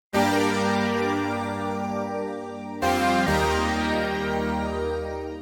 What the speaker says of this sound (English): These three layers all together sound like this.